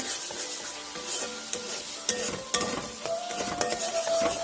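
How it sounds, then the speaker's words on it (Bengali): Pointed gourd paste being stirred in a pan, a busy continuous scraping and stirring under a steady sizzle, with a few sharper utensil knocks against the metal, close and fairly loud. "এটা একটু বেশি করে নাড়তে হবে।"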